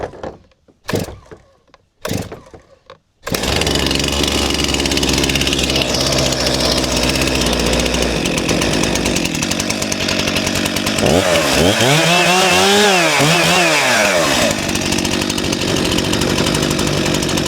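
A Stihl chainsaw, set to choke with the decompression valve pressed, gets a couple of short pull-start bursts before catching and running loud and steady, with a few throttle revs rising and falling near the end.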